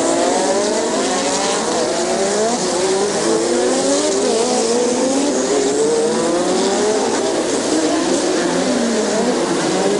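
Formula 1 race cars from the 1986 season passing on track, a continuous loud high-pitched engine roar with rising and falling pitch sweeps as cars go by.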